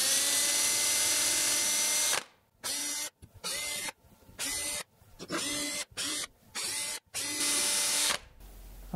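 A step drill boring through a metal part for a clock build, heard close and loud: a steady high whine for two seconds, then a series of short choppy bursts as the cut starts and stops, with no talk.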